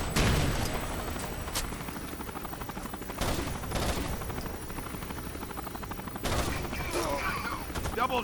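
Bursts of automatic gunfire from an enemy gun encampment in the shooter game Rainbow Six: Vegas 2, several loud rattling volleys spaced across the stretch, with helicopter-like rumble underneath.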